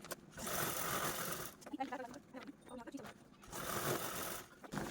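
Sewing machine stitching along the corner of a homemade fabric organizer, bursts of rapid mechanical whirring at the start and end with a quieter gap between, and a person talking in the middle.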